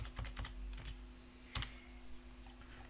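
Computer keyboard keystrokes while typing text into a spreadsheet cell: a quick burst of close, crisp taps at the start, one sharper clack midway, then a few faint ticks over low background hum.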